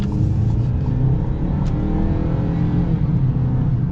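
A 2025 Ford Maverick XLT pickup engine pulls under acceleration, a steady low rumble with rising harmonic tones heard from inside the cab, constant and fairly loud without talk.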